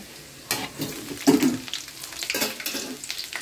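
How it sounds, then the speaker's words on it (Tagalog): Garlic hitting a hot pan for chicken liver and gizzard adobo, with short crackling sizzle bursts and stirring clatter up close, no talking. "put na natin ang bawang"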